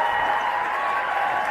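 A basketball crowd at a Cascade Conference men's semifinal cheers and applauds in a steady, even roar that fills the whole short moment.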